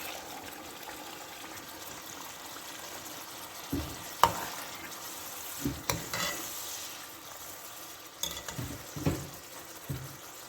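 Tomato paste frying in a pan with ginger and garlic for a potato and egg curry, a low steady sizzle broken by several stirring scrapes and soft clinks of the utensil against the pan.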